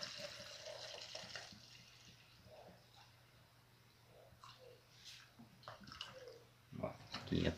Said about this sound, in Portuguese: nós vamos estar colocando aqui 500 ml do álcool 70